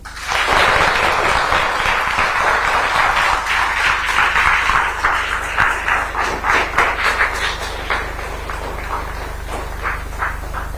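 A crowd of students at a school parent-teacher meeting claps loudly and densely at first, then the applause thins into scattered, rhythmic individual claps that fade toward the end.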